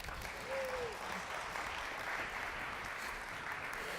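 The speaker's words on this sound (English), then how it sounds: "Please, a little round of applause for Tom." An audience at a retail technology event gives a round of applause, a steady wash of clapping lasting several seconds at moderate volume, with a brief voice heard near the start.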